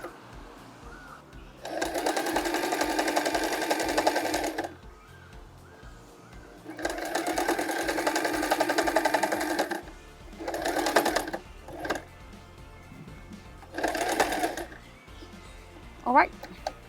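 A sewing machine back-stitches to close the opening in a bag's lining, running in bursts of about three seconds and then shorter one-second spurts, with quiet handling and faint speech in the pauses.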